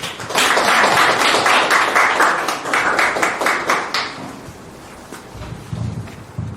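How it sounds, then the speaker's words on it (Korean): An indoor audience at a disability culture association meeting claps to welcome a speaker, with dense applause for about four seconds that thins into scattered claps and fades, followed by faint movement. "박수로 환영해 주시기 바랍니다"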